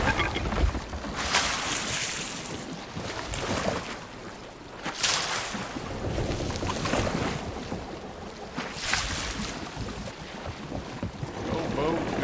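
Wind and rushing water surge around a moving sailing ship at sea in the video game Sea of Thieves, with waves swelling and breaking in broad washes and a voice speaking briefly underneath.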